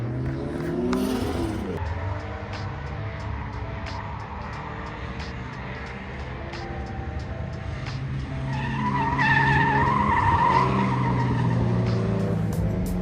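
At a drift event, a 3-rotor 1,000-horsepower Volvo and a BMW E46 with a 700-plus-horsepower 2JZ engine skid past. Long, loud tire squeals ride over roaring engines, swelling louder toward the end.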